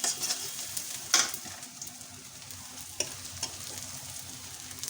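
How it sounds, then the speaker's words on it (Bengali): Mutton curry with whole spices, ground homemade garam masala and bay leaves is stirred in a pan, giving a soft steady sizzle with a few sharp scrapes and clinks of the spoon, close and alone. "মাঝে মাঝে আমার এটা নেড়ে দিতে হচ্ছে, একসঙ্গে করতে হচ্ছে।"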